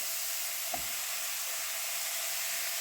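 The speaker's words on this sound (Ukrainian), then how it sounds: "Нагріваю сковорідку і на суху сковорідку викладаю шампіньйони." A soft, steady sizzle and hiss of button mushrooms frying in a dry pan without oil, with one faint tap near the start.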